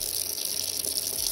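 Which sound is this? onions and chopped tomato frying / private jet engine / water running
water running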